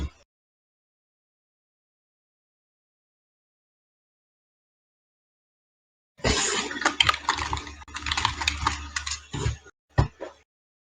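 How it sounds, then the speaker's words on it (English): Rapid keyboard typing, a dense run of close clicks and taps lasting a few seconds after a long silence, then a couple of isolated keystrokes, with no talk. "I swear he was typing."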